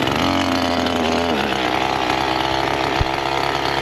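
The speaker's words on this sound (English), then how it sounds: "You have to listen to the chainsaw anyway" Chainsaw runs at a high, steady buzz while cutting a freshly fallen, twisted tree in a wooded spot, close and loud throughout with a brief knock near the end.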